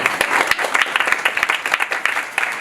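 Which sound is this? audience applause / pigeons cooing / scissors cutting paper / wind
audience applause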